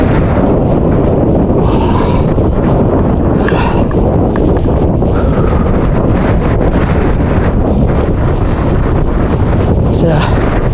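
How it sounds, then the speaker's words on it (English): Strong gusty wind buffets the microphone throughout a fell run up Winder near Sedbergh, a loud continuous roaring rumble with no speech. "A little bit out of the wind, but not much."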